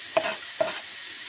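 Onions dropped into a heated tagine, two quick clanks of a utensil against the pot over a soft, faint sizzle, brief and close with no voices.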